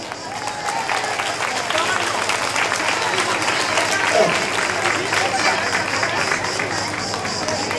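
Audience clapping at a Greek village feast day for Prophet Elias, sustained broadband applause filling the whole stretch with crowd murmur underneath, steady and fairly loud.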